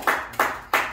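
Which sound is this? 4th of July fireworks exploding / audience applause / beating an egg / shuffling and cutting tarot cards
audience applause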